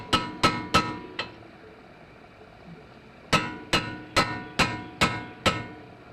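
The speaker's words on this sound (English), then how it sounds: "So, as he suggests, I'll give it a little tap, get this handle in there" Sledgehammer taps on a tool handle while removing a ball joint during a front wheel bearing replacement: four sharp metallic strikes, a pause, then six more evenly spaced ringing hits, close and loud.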